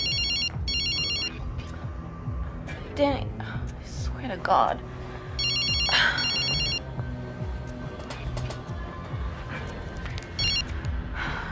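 A phone ringtone sounds in repeated short bursts of bright electronic tones against steady background noise. A person speaks and gasps between the rings.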